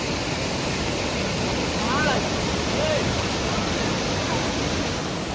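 Waterfall at Nine Waterfalls near Coimbatore, a steady broadband roar of falling water, loud and continuous throughout with faint voices barely audible beneath it.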